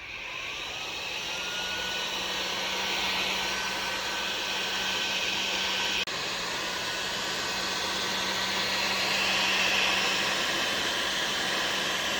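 A hot air tool blows steadily to warm the adhesive backing of a carbon fiber cup holder overlay for a 2016+ Camaro, a constant airy whoosh with a low hum lasting throughout, fairly close and with no talking.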